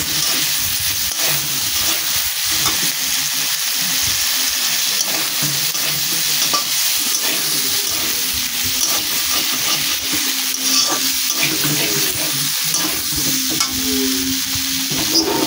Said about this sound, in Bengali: দিয়ে আমি ভালো করে নাড়াচাড়া করে নেব।